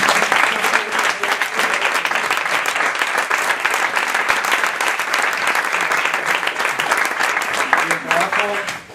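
An audience at a journalism and peace awards ceremony applauds in sustained, dense clapping that is loud and close and carries on for several seconds, with a voice surfacing briefly near the end.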